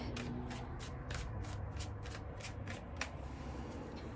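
Tarot cards being shuffled in a steady run of about a dozen quick riffling bursts, close and fairly loud, with no talking over them.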